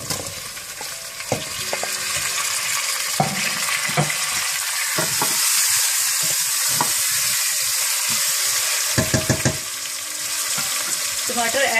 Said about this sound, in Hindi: थोड़ा सा भूनने के बाद आप इसमें टमाटर भी ऐड कर दें।